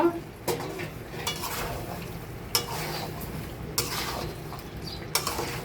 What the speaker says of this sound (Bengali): আমি সুন্দর করে মাংসটা নেড়ে একবারে মশলার সাথে মিশাই দিব